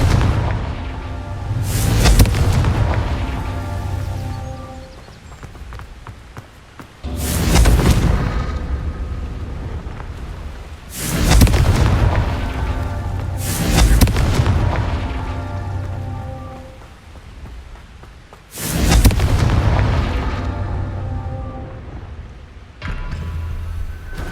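A Confringo fire spell in Hogwarts Legacy goes off four times, each a loud, heavy boom with a rolling rumble that fades before the next blast about five seconds later.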